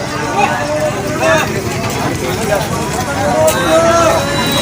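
People crowd onto a village ferry at a Sundarbans market landing on market day, a busy babble of many nearby voices with scattered footsteps and shuffling beneath the chatter.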